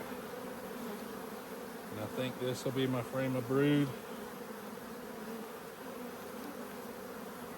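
Honey bees buzz steadily around an open hive during a modified Demaree split for raising queens, a close, even hum throughout, while a person talks briefly midway over it.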